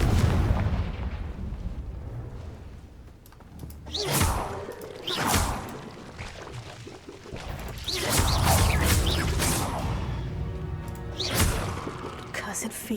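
Confringo blasting spells in Hogwarts Legacy burst as a series of loud whooshing explosions with deep booming tails, several heavy hits spaced across the stretch, while a voice speaks over the game sounds.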